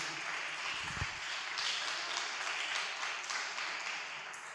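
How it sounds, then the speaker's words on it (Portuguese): A church congregation applauding, steady, dense clapping from many hands in a reverberant hall, continuous throughout without pause. "Vamos aplaudir Jesus, igreja"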